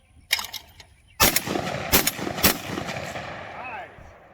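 A loud, close shotgun blast from a vintage semi-automatic shotgun fired at a clay target on an outdoor range, followed by further sharp reports and echoing rumble as the sound fades.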